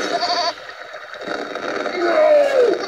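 A goat bleats in a video game, one short wavering cry rising out of a murky game soundscape and bending downward at the end.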